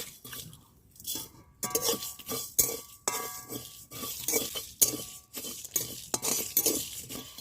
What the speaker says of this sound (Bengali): চলুন এই মশলাগুলো শুকনো খোলায় ভেজে নিই